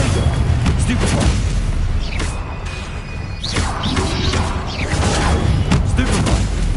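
Loud, dense spell blasts from the Hogwarts video game, Confringo and Stupefy, with booming crashes and whooshing impacts layered over continuous game noise and a talking voice.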